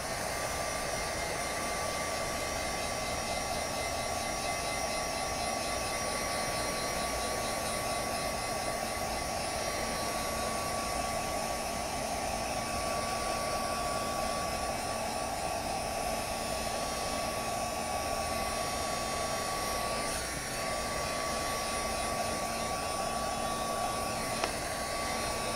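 A hair dryer blows a steady, unbroken whine for the whole stretch, drying a fresh coat of paint on cardstock made to look like old wood.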